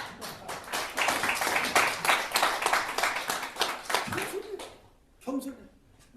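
Audience clapping in a lecture hall at a Korean smart forum talk, a burst of many hands for several seconds that fades out, followed by a brief voice.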